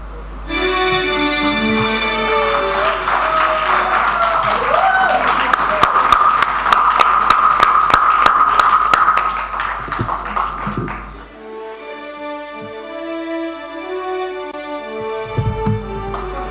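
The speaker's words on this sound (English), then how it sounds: "If these claps were loud, I'm very sure the next ones are going to be louder." An audience claps at an ending ceremony, a loud, dense burst of applause that rises over background music, peaks, and then fades away into the music.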